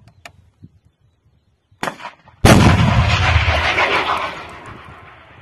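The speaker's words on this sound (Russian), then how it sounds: "Выстрел!" A sharp, loud launch blast from a Stugna anti-tank guided missile erupts after a few faint clicks, followed by a long roaring rush that slowly fades.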